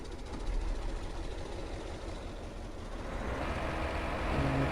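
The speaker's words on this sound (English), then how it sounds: "Now you actually have to turn the crusher on" A crusher machine starting up on a running tractor-driven rig in Farming Simulator 2015, a steady broadband mechanical rumble and grind with low engine drone, holding constant and swelling slightly louder toward the end.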